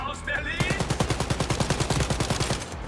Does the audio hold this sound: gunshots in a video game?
yes